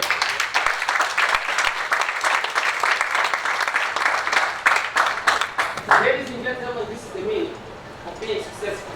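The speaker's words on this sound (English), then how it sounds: "please give a big round of applause to them" Audience applause at a Toastmasters awards ceremony in Jeddah fills the first six seconds with dense, loud clapping, then thins out as a voice begins talking over the fading claps.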